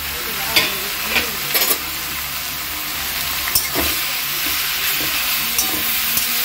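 Bay leaves and mustard seeds hit hot oil in a kadai, giving a steady close sizzle broken by occasional sharp pops and spatters, with no talking.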